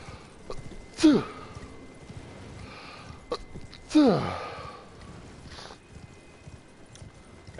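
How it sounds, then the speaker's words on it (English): A person sneezes twice, about three seconds apart, each a sharp, loud burst with a falling vocal tail over quiet background. "If anyone's ever wanting to know how it sounds when I sneeze, there you go."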